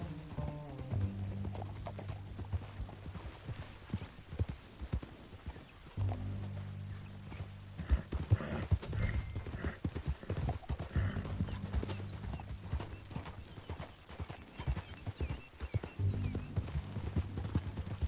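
Horse hooves clip-clopping at a steady gallop in the Western video game Red Dead Redemption 2, continuous and fairly close, with an occasional whinny over a low droning music bed.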